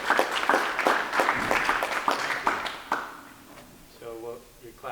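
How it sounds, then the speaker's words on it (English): An audience at a high school PTSA roundtable claps for Carol, a brief burst of applause that fades out before a voice starts speaking. "So you're clapping for Carol"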